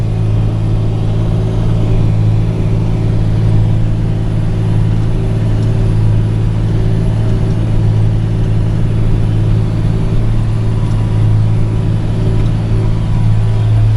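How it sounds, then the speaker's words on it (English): John Deere 8560 four-wheel drive tractor pulling a ripper through a field, its big engine giving a steady, loud low drone with a constant rumbling tone throughout, no voices. "But I sure am glad I bought this big 4-wheel drive tractor."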